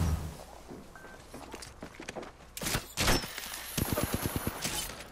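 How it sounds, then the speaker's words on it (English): Enemy gunfire in the shooter game Apex Legends, quiet scattered shots and short bursts over a few seconds, ending in a quick rapid volley, with no talk. "The enemies are shooting at me, giving my shields a recharge."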